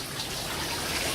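Running water pours steadily into filled ponds at a haunted tent setup, a continuous close wash and trickle with no voices.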